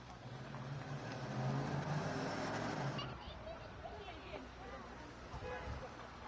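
Car driving down a crooked street in California, a moderate engine rumble that swells then fades after a few seconds, with faint background noise.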